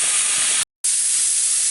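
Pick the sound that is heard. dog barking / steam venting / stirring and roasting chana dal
steam venting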